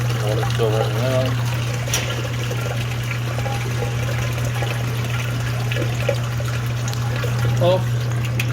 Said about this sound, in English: Water's still running out.